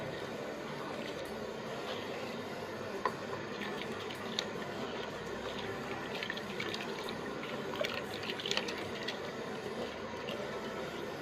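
Half a kilo of rice pours into a pot of hot water for fish biryani, a continuous bubbling and rushing wash with faint scattered ticks, steady and close.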